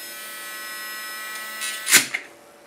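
Battery-powered milk frother buzzing steadily against a bottle of shimmer powder, a close, thin electric whine with tonal hum, ending in a brief rattling clatter as it is moved.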